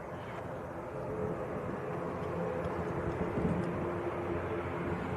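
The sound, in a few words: ATR 72 aircraft at Manchester Airport, lined up for takeoff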